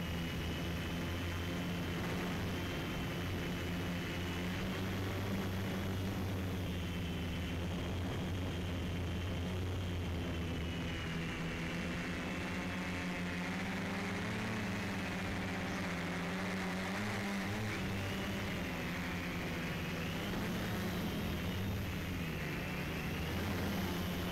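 An MJX Bugs 6 quadcopter drone carrying an SQ12 HD camera flies in the open air, its propellers making a steady, continuous whirring buzz that holds near and fairly loud throughout, with slight shifts in pitch as it manoeuvres.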